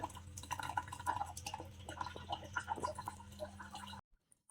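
Water trickles and drips steadily from the first three filter cartridges of a 75 GPD RO water purifier, a continuous wet patter with a pump's low hum underneath, stopping abruptly near the end.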